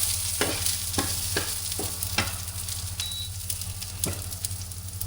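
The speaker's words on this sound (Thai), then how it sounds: "ทอดไข่เล็ก" Eggs fry in oil in a pan, a steady close sizzle with repeated sharp clicks and scrapes from a utensil stirring or tapping, no talking.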